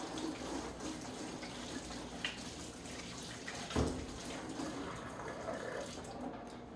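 Running tap water splashes steadily over hands at a sink, a continuous close wash with a brief louder splash partway through.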